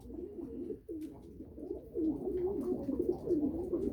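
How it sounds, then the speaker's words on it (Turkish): Pigeons coo in a coop, several soft, throaty rolling calls overlapping close by in a quiet room, swelling and fading in repeated waves. "Bura benim kümesim. Kuşlarım."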